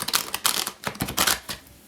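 Tarot cards shuffled by hand in quick bursts, a crisp rapid riffling and slapping heard close up and alone.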